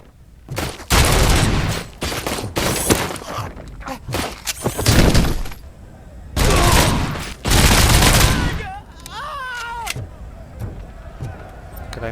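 Gunfire in the game RoboCop: Rogue City, loud heavy bursts and single blasts in clustered volleys with gaps between them, alongside impact clatter and whirring effects.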